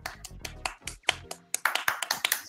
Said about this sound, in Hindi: आज के टास्क पूरे होने की खुशी में एक बार तालियां हो जाए.